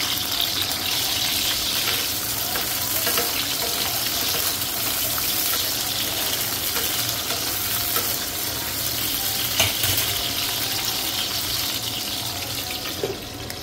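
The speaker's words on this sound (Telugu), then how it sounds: "ఆయిల్ మంచిగా కాగిన తర్వాత ఈ దొండకాయల్ని ఫ్రై చేసుకోవాలి" Cut ivy gourds (dondakaya) frying in hot oil, a continuous bubbling sizzle close up with occasional faint clicks, steady throughout with no voices.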